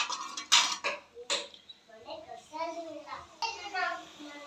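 A spoon mixing ginger garlic paste in a bowl for onion gobi, with clinks and scraping against the bowl and a voice talking over the mixing.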